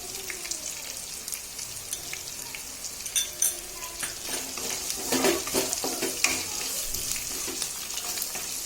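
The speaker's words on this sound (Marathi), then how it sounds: "आता आपण कांदा टाकून घेऊ। लवकर कांदा शिजण्यासाठी थोडं मीठ टाकू आपण त्याच्यात।" Onion with salt fries in a pan for Khandeshi-style vangyache bharit, making a continuous bright sizzle with scattered crackles and a few louder stirring scrapes partway through.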